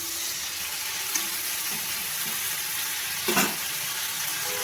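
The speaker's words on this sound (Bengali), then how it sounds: "আমি কড়াইয়ের মধ্যে চিংড়ি মাছগুলো দিয়ে দিয়েছি। এবার চিংড়ি মাছগুলোকে ভালো করে ভেজে নেব।" Prawns fry in hot oil in a wok, producing a continuous close sizzle with a faint stir early on and one louder scraping clatter near the end.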